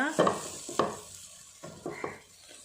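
Masala spices fry in a pan for an Andhra-style curry, with soft sizzling and a few scraping stirs of a utensil against the pan, close and moderately loud with no talking.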